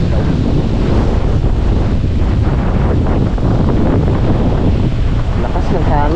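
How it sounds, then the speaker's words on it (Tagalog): Strong wind buffets the microphone by the sea, a loud continuous rumbling roar with surging gusts and faint surf beneath, steady throughout. "Lakas ng hangin."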